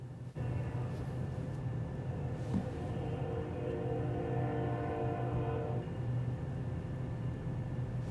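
An NS intermodal freight train led by two AC44 locomotives passes at a distance, a steady low rumble with a droning engine hum that swells through the middle and then fades.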